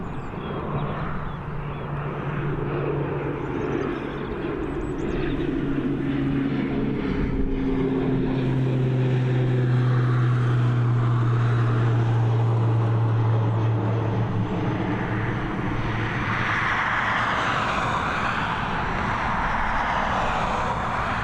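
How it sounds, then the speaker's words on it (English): An ATR 72-600 turboprop airliner on the Manchester flight at Dublin Airport drones steadily for about twenty seconds with a strong low propeller hum. Its pitch shifts slowly as it moves past at a moderate distance. "Here is that Manchester flight, the ATR 72600."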